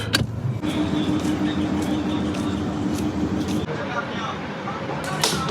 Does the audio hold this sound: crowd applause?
no